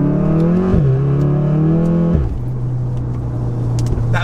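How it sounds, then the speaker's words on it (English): Retuned 600 bhp VW Golf R accelerating hard with all four wheels spinning, the engine note climbing loud and close, dropping at two quick gear shifts, then holding a steady drone. "That's 4 wheels spinning then."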